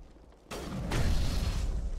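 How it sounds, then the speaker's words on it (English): A plasma container bursts in the video game Mass Effect Legendary Edition, a sudden loud blast that swells into a sustained rumbling roar lasting over a second. "Random explosion there. I guess there was a plasma container or something."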